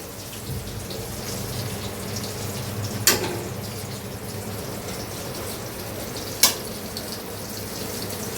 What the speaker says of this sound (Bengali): পটল আর বেগুন ফ্রাই করতেছি